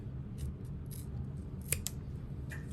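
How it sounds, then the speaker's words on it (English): Scissors snip through fabric while trimming an uneven edge on a small parachute knapsack sewing pattern, a few sharp close cuts standing out over a low steady background hum. "about an inch uneven, I'm just gonna trim that down"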